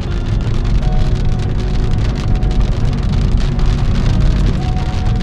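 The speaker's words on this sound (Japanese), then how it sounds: "雨降ってきた。" Heavy rain pours down at a campsite, a steady, close, dense hiss of drops drumming on surfaces that never lets up.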